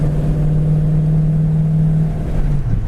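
A 1966 Ford Mustang GT cruises down the road with a steady, loud engine drone and road rumble heard from inside the car, its pitch dipping slightly near the end, with no talk.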